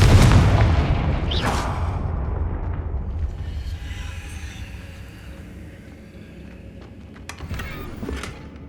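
Spell explosions from Confringo in the video game Hogwarts Legacy: a loud opening boom, a sharp blast near 1.5 s and another around 8 s, over a continuous rumbling game backdrop.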